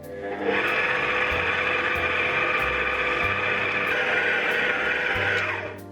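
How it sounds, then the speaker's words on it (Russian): Stand mixer kneading soft dough for Turkish pide kebab, a steady loud mechanical whir and gear drone running evenly for several seconds, with the motor's pitch shifting slightly partway through. "миксер мне вымесил тесто"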